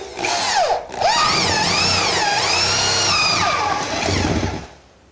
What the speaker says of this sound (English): when you're drilling into plaster, you're going to get a little chipping around the edge of the drill bit hole